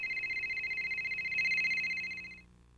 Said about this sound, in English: You can also adjust the phone's ringer to receive incoming calls.